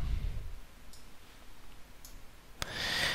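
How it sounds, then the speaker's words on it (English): A single crisp mouse click on a software Add button, short and close, with faint ticks and room hiss around it. "To add a condition set, simply click on the Add button."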